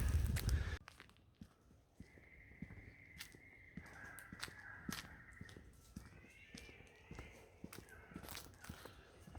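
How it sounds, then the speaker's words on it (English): A bird gives drawn-out wailing calls, like an infant crying, heard outdoors at a distance on a walking track in Buderim, Queensland, over quiet ambient sound with a few scattered clicks. "There's a bird out there that sounds a little bit like a baby crying."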